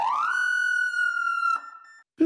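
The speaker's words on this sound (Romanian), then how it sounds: "Mașina considerată de epocă are incorporate lumini și semnale sonore asemeni celor folosite de polițiști" A police-style siren fitted to a vintage Volga car sweeps up and then holds a loud, steady electronic wail for about a second and a half before switching to a shorter tone and cutting off, heard close and alone.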